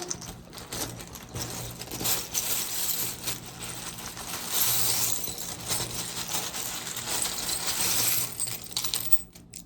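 Small shells and charms clatter and rattle continuously as they are shuffled together for a tarot-style reading, a busy, close clicking that swells and eases.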